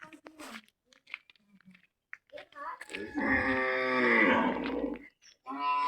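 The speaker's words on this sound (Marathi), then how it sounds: "बघा गुरं सोडलेली नाही आज त्याच्यामुळे ती पण हंबरतात सोडायसाठी" Farm cattle, kept in and not yet let out, give one long, loud moo in the middle, with people talking before and after it.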